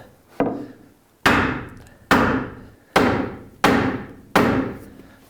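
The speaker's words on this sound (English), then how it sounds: "We're just going to hammer this in just a little bit." A hammer drives a 2x4 into a door frame on a knee wall: five sharp, loud wooden strikes at an even pace, each ringing briefly and fading before the next blow.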